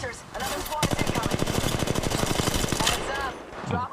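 Gunfire in Apex Legends Mobile rattles off as a rapid automatic burst of close, evenly spaced shots lasting about two seconds, with short pauses and game noise around it.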